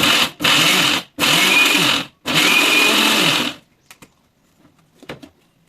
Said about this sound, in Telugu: కొద్దిగా బరగ్గా పలస మోడ్లో అయితే మిక్సీ పట్టుకోవాలి